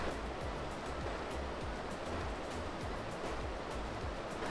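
A tall waterfall on Nuku Hiva in French Polynesia gives off a constant, dense rushing roar with no voices, holding even in loudness throughout.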